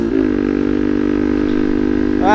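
A stock Yamaha MX King motorcycle engine idles close up with a steady, even putter, then revs briefly at the very end; no one speaks.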